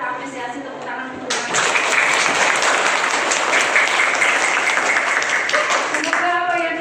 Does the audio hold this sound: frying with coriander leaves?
no